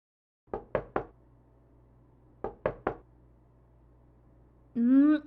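Knocking on a door in two sets of three sharp raps, loud and close with a pause between sets, followed by a voice starting to speak.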